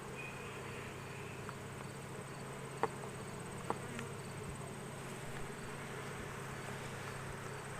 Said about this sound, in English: A hive of bees, the angry bees especially.